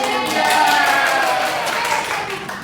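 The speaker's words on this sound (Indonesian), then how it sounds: "Iya, tepuk tangan." Classroom of students claps hands together in a brisk, continuous burst of applause, with voices mixed in beneath the clapping.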